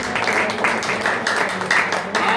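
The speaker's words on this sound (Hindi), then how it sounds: "इतना भव्य दिव्य जो कार्यक्रम किया है उन सबके लिए जोरदार ताली से स्वागत करें" Audience applause at a religious ceremony, a steady wash of clapping from a crowd lasting the whole moment with no break.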